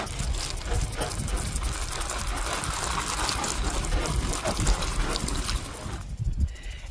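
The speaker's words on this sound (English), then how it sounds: "we're gonna add a little more water." Water pours steadily and splashes onto soil holding pepper seeds for several seconds, then tapers off near the end.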